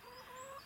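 A hen that is lame in the legs gives a brief, soft, drawn-out cluck, close by and quiet, with no other sound.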